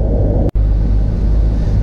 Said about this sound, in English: Car's running, air conditioner's blasting.